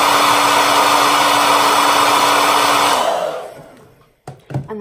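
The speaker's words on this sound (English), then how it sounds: "And then I use the cool setting on my hairdryer." A hair dryer on its cool setting blows steadily and loudly, used to curl eyelashes, then switches off and winds down, leaving a few soft handling sounds.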